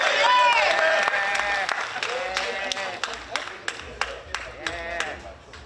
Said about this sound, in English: Please join me in applauding the fabulous Dr.